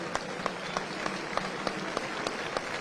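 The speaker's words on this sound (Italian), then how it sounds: "un forte applauso ai bambini" Crowd applause for children at the Corpus Domini festival in Campobasso, a dense, steady patter of many hands clapping at a moderate distance, fairly quiet and continuous with no voices.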